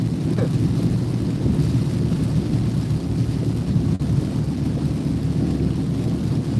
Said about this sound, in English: we got some more heavy rain now